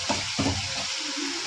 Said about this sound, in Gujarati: તો જો મેં રાઈ નાખી અને ટમેટા વઘારી નાખ્યા છે